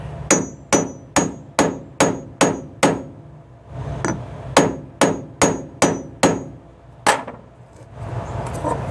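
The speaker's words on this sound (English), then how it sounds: "Make sure you center it over the board and hammer the hell out of it." A hammer strikes a grommet set over a board to fix it into a flatbed truck tarp, about fourteen sharp, loud metallic blows in quick steady runs with a short pause midway, heard close and alone.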